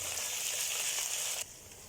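Ginger garlic paste and browned onions sizzle steadily in a hot pan for a chana dish, a loud, continuous crackling fry that drops abruptly to a quieter hiss near the end.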